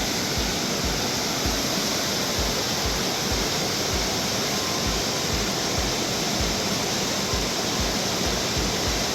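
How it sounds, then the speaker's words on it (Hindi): Rushing river water at the confluence of the Kali and Gori rivers roars steadily and loudly, a dense unbroken wash of turbulent flow with no voices. "ये दोनों नदियों का संगम है।"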